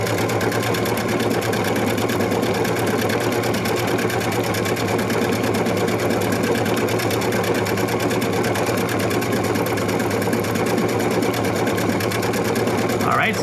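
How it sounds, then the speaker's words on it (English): A PFAFF Performance Icon sewing machine sews a stitch pattern with a steady, fast, close mechanical whir and needle chatter that runs unbroken throughout. "I'm gonna use my start stop button and we're gonna start sewing"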